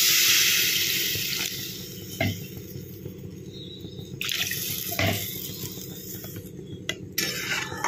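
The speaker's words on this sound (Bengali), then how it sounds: "এবার জল দিয়ে দেবো।" Water is poured into a cooking pot of simmering potatoes and pointed gourd for a fish curry, a loud rushing splash that fades into a steady sizzle and bubbling with occasional clinks.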